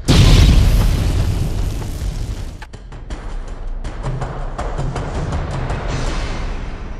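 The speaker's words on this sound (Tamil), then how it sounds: "கொஞ்ச நேரத்துல இந்த உருவம் வெடிக்க போகுதுன்னு புரிஞ்சுக்கிட்ட சஞ்சனா அங்கிருந்து வேகமா கார் பார்க்கிங் வழி" A loud explosion booms at the start, followed by a long rumbling decay with scattered crackles and bursts of debris.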